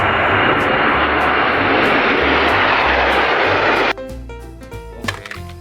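A toy airplane's engine gives a loud, steady whirring drone for about four seconds, then cuts off and is followed by clattering handling noises.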